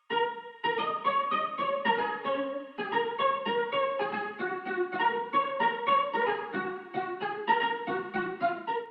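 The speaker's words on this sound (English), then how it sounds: "we have this melody right here, which is the guitar playing, and it sounds like this" Acoustic guitar melody from the String Studios Intimate Acoustic preset in a beat, bright plucked notes flowing in a continuous, steady melodic line, close and clean with no voices.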